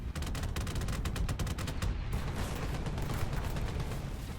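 Heavy gunfire from a tank in War Thunder, fitted with widely spaced guns on the ItPsV Leopard. Dense, loud, continuous bursts of shots roll straight through without pause, with no talk over them.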